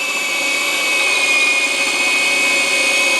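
Texusbull 2.5-joule rotary hammer drill boring with a 25 mm hole saw, a loud steady high whine and grinding drone held evenly throughout with no pauses and no voices.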